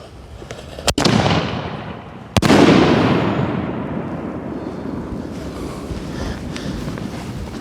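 Two sharp, loud aerial firework shell bursts a little over a second apart, each followed by a long crackling, rumbling decay that trails off under wind noise.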